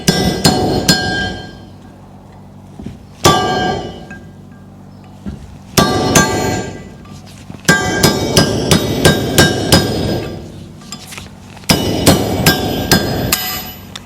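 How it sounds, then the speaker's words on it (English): A hammer strikes a punch and chisel on a Ferguson TEA20 tractor, giving loud, close metallic blows in irregular clusters, some single and some in quick rapid runs, each ringing sharply with short gaps of quiet between. "See if I can get it off with a punch, with a chisel."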